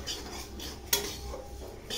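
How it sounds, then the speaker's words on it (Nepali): Sesame seeds fry in oil in a pan for pickle, making a soft steady sizzle with a sharp utensil clink partway through and light stirring scrapes. "सो म यहाँ अचारको लागि तेल फ्राई गर्दैछु, भुट्दैछु तिललाई।"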